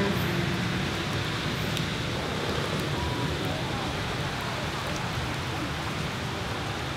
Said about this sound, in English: it's really raining quite hard today.